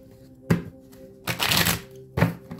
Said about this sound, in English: I want to shuffle these again. Just shuffle them again.